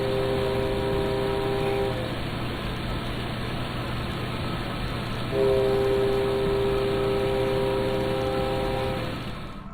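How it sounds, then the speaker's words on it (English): A distant train horn sounds twice in long steady blasts at night over a constant rumbling background, the second blast lasting several seconds. "a creepy train toots its horn in the middle of the night"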